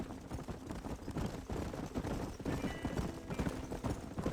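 Horse hooves clop steadily in a quick trotting rhythm in Red Dead Redemption, layered over a dense, busy background of outdoor noise.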